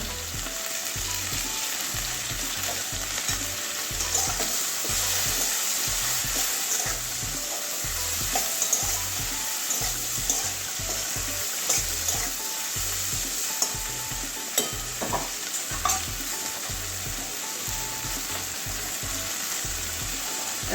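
Okra fries in a pan with mustard paste, green chillies and a little Kashmiri red chilli, a constant crackling sizzle under rhythmic stirring scrapes and occasional sharper taps, close by with no talking.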